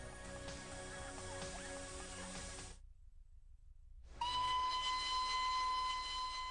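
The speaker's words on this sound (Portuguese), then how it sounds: "Não existe no mundo um outro passeio de trem como esse." Mountain toy train on a steep line of 906 curves clinging to hillsides near Siliguri, India, runs with a steady rumble, then a loud sustained whistle sounds after a brief silent gap.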